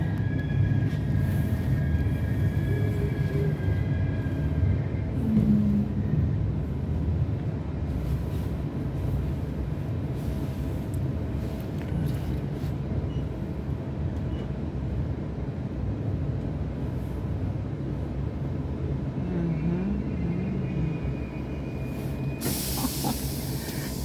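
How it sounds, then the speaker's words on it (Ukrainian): An Italian railway station with trains gives off a loud, continuous hissing rumble with a low mechanical drone beneath it, holding steady throughout and rising into a brighter hiss near the end, with no voices. "Зупинилися на такій залізничній станції."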